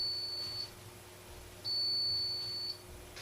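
An Oster BVSTCJ0029-033 coffee maker, run dry, gives two long, steady electronic beeps, each about a second long and separated by a short pause, loud and clear over a faint hum.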